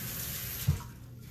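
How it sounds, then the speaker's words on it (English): Water runs from a kitchen tap for hand washing, a steady broadband rush with a brief splash or knock partway through, heard close with no talking. "So let me just wash my hands."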